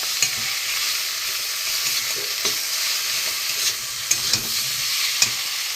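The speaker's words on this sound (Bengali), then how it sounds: "আদা রসুন বাটা একসাথে কেটে নিয়েছিলাম, একটু ভালো করে কষিয়ে নেব।" Ginger-garlic paste sautéing in a pan for a spicy haluya fish curry, giving a steady close sizzle with a few sharp spoon scrapes and taps against the pan and no talking.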